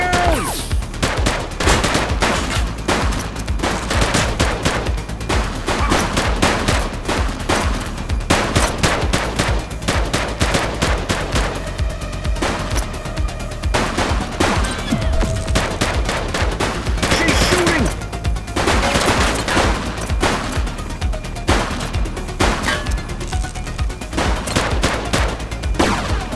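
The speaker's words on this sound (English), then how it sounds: "Shots fired!" Sustained gunfire in the isometric police action game The Precinct, with dense bursts of automatic and rapid shots continuing loudly throughout against a busy background.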